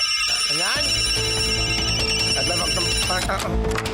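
A telephone rings with a rapid, bright repeating bell tone, loud and close, continuing for several seconds with a brief rising tone at the start.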